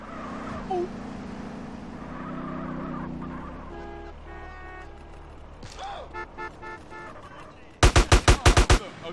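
Video game gunfire in GTA San Andreas: a rapid burst of loud, sharp automatic shots near the end, following mixed game effects and engine noise.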